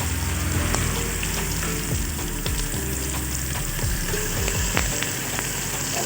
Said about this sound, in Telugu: కరివేపాకు వేస్తున్నాము.